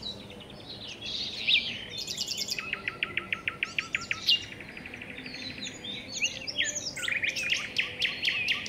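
Forest birds sing in a lively chorus, with bright chirps, rapid trills and a run of evenly spaced repeated notes, some close and clear, others softer and farther off, over a quiet woodland background.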